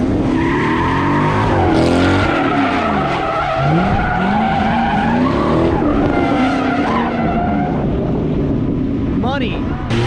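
A red Corvette drifting at a drift event, tires shrieking and skidding in long wavering squeals over a loud revving engine, with crowd voices underneath.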